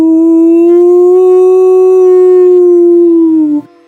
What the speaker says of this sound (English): his howl was so good and so loud, all the other wolves started to howl